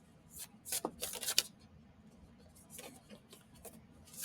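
A deck of cards being shuffled, quick crisp riffling flutters clustered early then scattered lighter snaps, faint and close in a quiet room, no talk.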